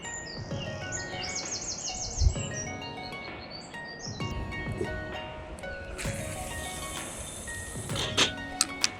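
Birds chirp and call beside a carp fishing lake, with repeated trilling bursts and scattered tweets over a busy outdoor background, occasional bumps and clicks mixed in, no speech.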